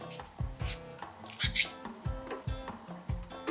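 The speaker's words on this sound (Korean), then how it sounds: "홍고추, 청고추도 씨를 빼고 다져주세요." Red and green chili peppers are minced with a knife on a cutting board, the blade striking in a quick, steady rhythm of close, crisp chops.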